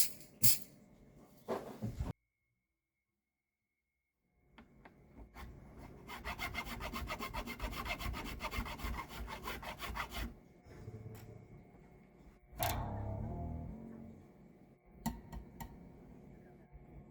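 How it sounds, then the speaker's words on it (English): A file works the nut slots on a repaired laminate guitar headstock to fit the strings, rasping in a steady run of close strokes and a few scattered scrapes after a brief silence. "Time to fine-tune the nut slots to the strings."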